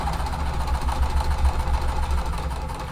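A sewing machine runs steadily while cotton quilt fabric is pieced, giving a continuous low motor hum with a fast, even mechanical pulse. It is moderately loud and steady throughout, with no talking.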